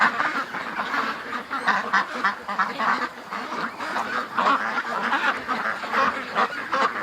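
A flock of ducks quacks continuously near a shoreline, overlapping calls from many birds forming a loud, busy chorus with honking mixed in and no pause throughout.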